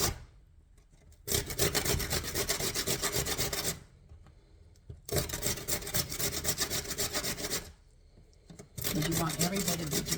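Loud, continuous rasping of Jerusalem artichokes rubbed hard against a grater in long bursts, separated by short pauses, close up with speech mixed in.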